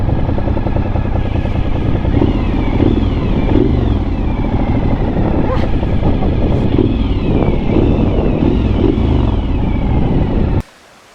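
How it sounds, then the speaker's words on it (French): A big motorcycle rides by close and loud, its engine roaring steadily with wind noise for about ten seconds before cutting off abruptly. "Oh, la grosse moto!"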